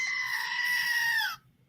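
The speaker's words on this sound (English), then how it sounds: "Like a screaming goat right now" A goat screams in one long, loud, wavering bleat lasting over a second, heard alone before it cuts off into quiet.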